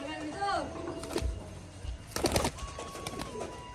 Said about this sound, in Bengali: তো দেখুন এই যে হচ্ছে পায়রাটা